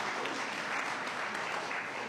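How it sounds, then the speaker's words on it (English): A church congregation at a Sunday worship service claps steadily, a dense wash of applause that stays even and moderately distant throughout, with no voices above it. "You give her a round of applause."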